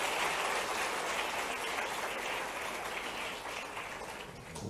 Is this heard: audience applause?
yes